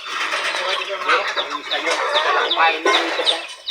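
Plymouth Rock chickens cluck steadily and close by on a farm in a busy layered flock chorus, with short sharp calls standing out over a continuous clucking murmur.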